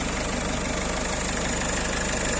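A used car imported from Europe idles smoothly with no knocking, an even, continuous engine hum heard up close and alone.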